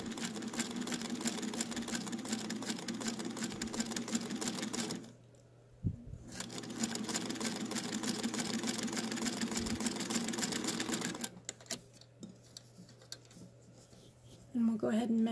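A Singer Featherweight sewing machine stitches a scant quarter-inch seam, a steady humming whir in two long runs broken by a short pause, then stopping with a few scattered clicks near the end.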